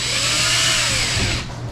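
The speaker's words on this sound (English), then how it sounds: "went over to the drill press and drilled a good straight hole through the center of it" Close and loud, a drill press bores a 5/16 inch hole straight through a wood block with a steady high whine and cutting grind, then spins down near the end.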